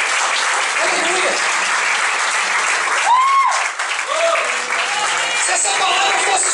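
Congregation applause during a church service, sustained dense clapping from a crowd with voices calling out over it, briefly dipping before continuing steady and loud.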